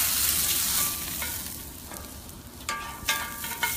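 Butter sizzles on a hot Camp Chef outdoor griddle, giving a loud, steady frying hiss with a few sharper crackles and scrapes near the end.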